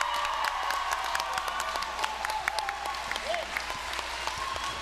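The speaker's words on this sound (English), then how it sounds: "we must give him a big round of applause" Steady crowd applause fills a boxing event hall as a downed fighter gets back to his feet, dense clapping continuing throughout with a few scattered shouts mixed in.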